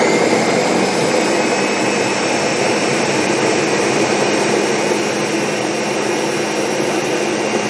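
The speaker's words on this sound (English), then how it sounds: "Now what we have to do is puree it." A blender purees food, its motor holding one loud, steady high-pitched whir for the whole stretch, close by and uninterrupted, with no talk.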